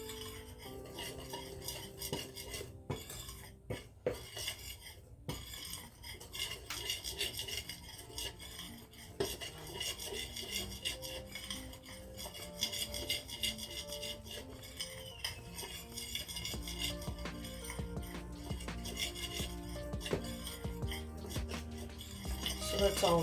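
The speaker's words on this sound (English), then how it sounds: "I'm going to mix that all together" A whisk stirs flour, cocoa, cinnamon, salt and baking powder in a bowl, a continuous close scraping and rasping with quick metallic clinks against the bowl, running steadily throughout with brief spoken words.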